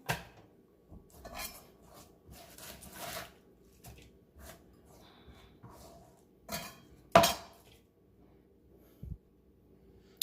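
Cabbage being cut and dropped into a bowl for a Jamaican Sunday dinner, with scattered knife scrapes, soft rustles and a few sharp clinks of utensils against dishes, close and intermittent in a quiet kitchen.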